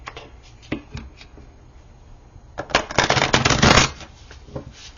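Tarot cards riffle and slap together in quick papery bursts, with a louder flurry of shuffling midway, close and alone with no talking.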